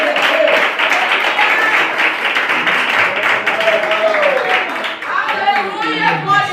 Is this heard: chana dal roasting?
no